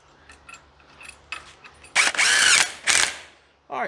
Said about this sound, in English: Just countersink it just a little bit.